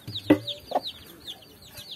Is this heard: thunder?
no